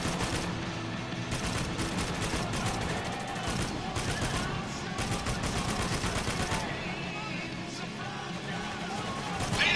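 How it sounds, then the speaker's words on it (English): Rapid bursts of automatic gunfire from the video game Spec Ops: The Line crackle in dense volleys over a steady noisy battle background, loud and continuous. "Oops, shooting my guys again."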